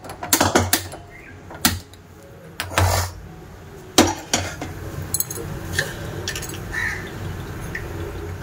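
Sharp knife strikes chop onions on a board in a home kitchen, irregular clicking cuts in short bursts and single taps, fairly close, over a low room background.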